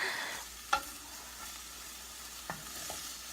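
Peas and prosciutto sizzle in a frying pan as a soft, steady hiss, with a few sharp utensil clicks and scrapes breaking through at intervals.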